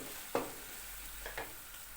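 Tomato paste frying with minced meat, carrots, potatoes and vegetables in a pan gives a quiet, low sizzle, punctuated by a few distinct spoon knocks and scrapes against the pot.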